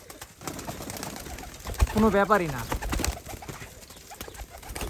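Teddy 128 pigeons coo nearby, one clear rising-and-falling call standing out in the middle over a noisy background, with someone speaking briefly.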